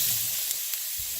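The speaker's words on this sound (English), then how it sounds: "we're going to throw in our onions and garlic" Onions and garlic sauté in sesame oil for pork fried rice, a brief, steady hiss of frying close up with no voices.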